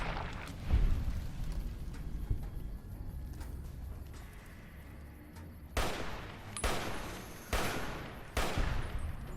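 Gunfire in a Bethesda video game: a scattered spell of shots early on, then four loud, sharp blasts spaced about a second apart near the end.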